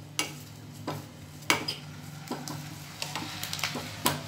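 A handful of curry leaves is stirred and fried in a pan for obbattu saaru: irregular spoon scrapes and clinks tap against the pan over a faint sizzle and a low steady hum.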